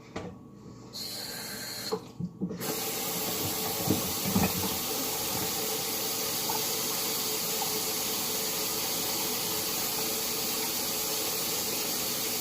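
Steady running water from a bathroom tap as hands are washed, a broad continuous rush that starts after a few seconds of quieter room sound and holds evenly to the end, with no talking.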